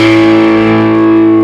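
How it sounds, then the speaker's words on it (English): A loud, sustained distorted electric guitar sound from plucking the open fifth string and the fourth string together, ringing out steadily with rich buzzing overtones and no talking. "pluck the 5th string and the 4th string."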